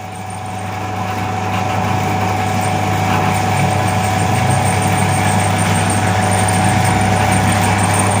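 A Vespa scooter engine fitted with a modified crankshaft runs steadily with a humming drone that swells slightly in loudness, close and continuous without distinct revs.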